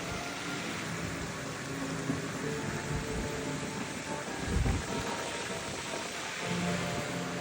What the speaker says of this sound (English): You hear the wind howling through the top of the drop tower.